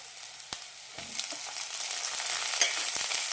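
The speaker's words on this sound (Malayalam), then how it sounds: "കൂടെ തന്നെ കറിവേപ്പിലയും നന്നായി വഴറ്റാം" Ginger, garlic, green chilli and tomato sizzle steadily in a hot pan with oil, a close continuous frying hiss with a few scraping stirs and soft clicks, no talk.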